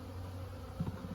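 Honeybees buzzing during a hive inspection at sunset on a farm, a steady close droning hum with a brief louder swell as one passes near.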